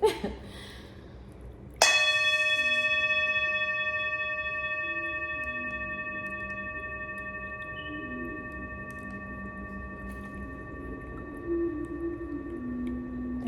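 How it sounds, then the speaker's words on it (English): Small prayer bell struck once to close a prayer circle, giving a bright metallic strike that rings on with a long, steady, slowly fading tone, with faint murmuring in the background. "I'm going to hit this bell"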